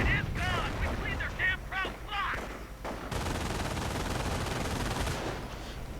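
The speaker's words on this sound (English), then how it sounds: "And the MG42 quickly opens up on these riflemen." MG42 machine gun in Company of Heroes 2 opening up on riflemen: a voice talks at first, then a dense, sustained burst of rapid gunfire takes over for the last few seconds amid battle noise.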